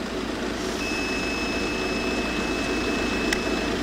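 A roadside breathalyzer used in a police breath test gives a thin, steady electronic tone that holds for several seconds, with a brief click near the end, faint over a low background hum.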